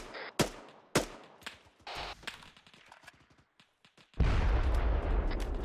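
Gunfire at infantry in Arma 3, a run of sharp close shots and rapid cracks at irregular intervals, then a loud sustained rumbling burst of heavy fire toward the end.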